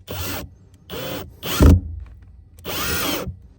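A power drill whirs in four short bursts, each about half a second, separated by brief pauses, with a heavier grinding thump on the third, while fitting a mount on a Nitro 640 boat.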